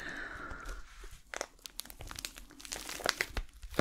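Soft, close crinkling and rustling of a plastic Rossmann shopping bag being handled, with irregular crackles and light taps in a quiet room.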